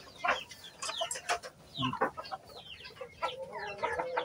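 Crossbred chickens of Jersey Giant, Polo and Rhode Island stock clucking on a farm, several birds calling in overlapping bursts, close and moderately loud.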